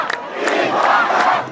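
A large crowd of Egyptian protesters shouts and roars together during the revolution, a dense, loud wall of massed voices swelling briefly with scattered rising cries.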